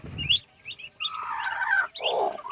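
Seven newly hatched turkey chicks chirp in quick, high, bright peeps at close range, with a few cluck-like calls and one longer wavering cry, and no talking.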